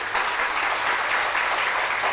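Studio audience applauding on a Turkish daytime TV show, a steady dense clatter of many hands clapping that holds at an even loudness throughout, with no voices above it.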